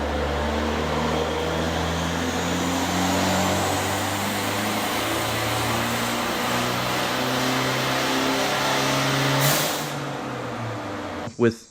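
A Fiat T-Jet turbocharged engine with a modified turbo runs hard on a dyno, a loud sustained drone climbing steadily in pitch for about nine seconds before cutting off, followed by a brief thump.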